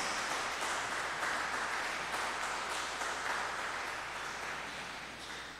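A church congregation claps together at a midday Mass, a dense, sustained wash of applause filling the room that gradually tapers off toward the end, with no speech over it.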